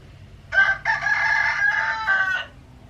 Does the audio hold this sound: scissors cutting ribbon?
no